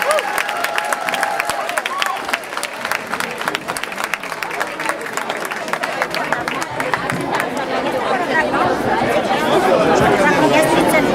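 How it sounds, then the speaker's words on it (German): Audience applause for a children's Serbian folk dance group at a folklore event in Schorndorf: crowd chatter gives way to clapping that builds into loud, dense applause with cheering toward the end. "Einen großen Applaus für die Kinderfolklore-Gruppe."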